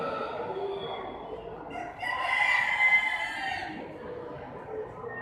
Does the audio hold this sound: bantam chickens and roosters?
yes